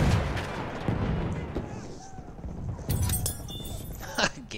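A gas grenade blast in the Battlefield 1 battlefield, a heavy boom rolling into crackling gunfire and debris clatter, loud and close, with a voice talking over the din.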